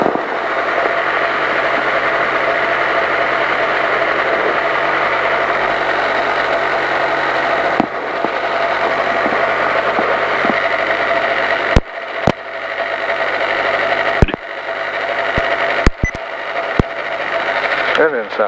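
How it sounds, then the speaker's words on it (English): The engine of a powered parachute runs on the ground after starting, a loud, close, steady droning idle. A few sharp knocks and dropouts break in toward the end. "That's the sweet sound of an engine right there."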